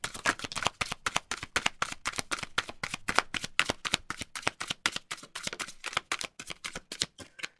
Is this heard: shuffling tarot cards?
yes